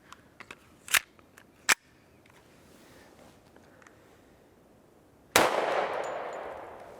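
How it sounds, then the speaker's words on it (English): Two sharp, separate reports from a Hi-Point JHP .45 ACP pistol firing Winchester ammunition crack out less than a second apart. A sudden burst of sustained broadband noise follows a few seconds later. "Okay, now we're gonna run our Winchester ammunition through it."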